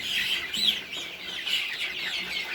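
A male chicken clucks close by in a steady run of high, chirpy calls, with no talking over it.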